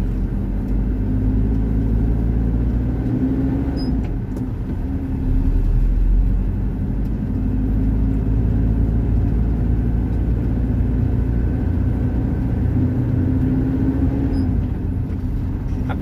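A car engine hums low and steady while driving, near and constant in a dense rumble that barely changes for the whole stretch. A couple of faint clicks sound and no one speaks.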